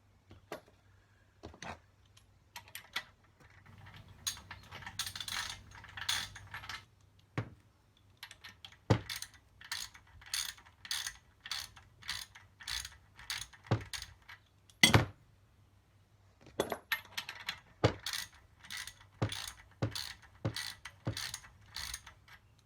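Ratcheting wrench working the left-hand-threaded inner nut on the timing side of a BSA A70L engine: bursts of rapid clicking pawl strokes with sharp knocks between them, close and loud with no talk.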